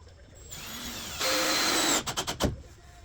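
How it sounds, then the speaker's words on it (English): A power drill whines as it drives wood screws into a workbench build, ramping up in a loud sustained burst, then stuttering in short rapid pulses as the screw seats. "Always start your screws. Makes it easier. Just driving it."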